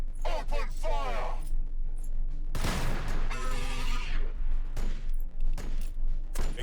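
Burst of gunfire in the Warhammer 40K Battlesector video game: a dense volley erupts partway through and rattles for more than a second amid a loud mix of in-game effects.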